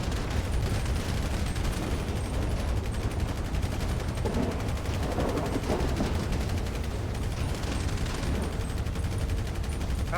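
Gunfire in a video game roleplay of a sea-boat battle crackles in dense, continuous rapid bursts over a constant roar, loud and unbroken throughout, with no talking.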